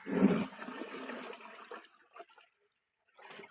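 Liquid jeevamrutham scooped with a ten-kilogram bucket and poured out, a loud splashing gush at the start that fades into trickling and dribbling, then a short pause and a brief second pour.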